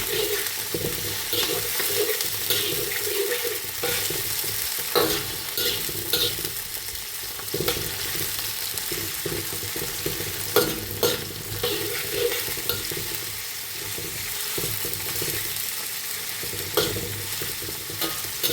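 Chicken breast stir-frying with kangkong in a pan: continuous sizzling with repeated scraping and stirring clatter from a utensil, steady and close for the whole stretch.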